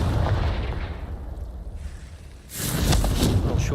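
Fiery Confringo spell explosion from Hogwarts Legacy bursts out with a loud, bright crackling blast, following a stretch of low rumbling game ambience, with no talk over it.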